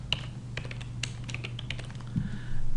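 Keys on a computer keyboard are tapped in a short, uneven burst of crisp clicks at close range, over a faint background hum and with no speech.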